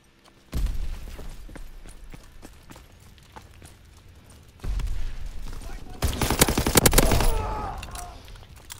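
Gunfire in the video game Call of Duty WWII, a few bursts of rapid shots and sharp impacts over game ambience and footsteps, with a louder, denser burst of shooting near the end.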